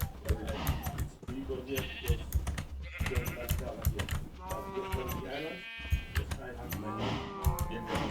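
Sheep bleat repeatedly in Minecraft with the Better Than Wolves mod, several wavering cries mixed with keyboard clicks and game sounds while someone talks throughout.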